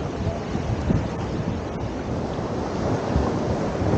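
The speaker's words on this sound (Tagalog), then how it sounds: "Lakas ng alon dito," Strong ocean waves crash and churn steadily on a rocky beach at Real, Quezon, a loud broadband roar mixed with wind buffeting the microphone, with no voices.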